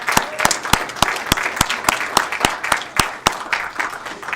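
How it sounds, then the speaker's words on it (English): Audience applause at a city council meeting, a steady patter of many hands with a few sharp, loud claps standing out nearby, continuing evenly throughout without talk. "Let's give them a big round of applause."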